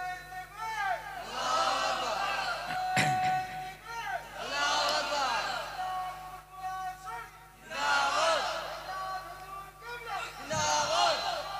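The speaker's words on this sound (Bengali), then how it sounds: "মিডিল থেকে একজন তাকবীর মারো তো দেখি।" A crowd at an Islamic religious sermon chants takbir (Allahu Akbar) together, loud voiced surges repeated in several waves with brief pauses between them.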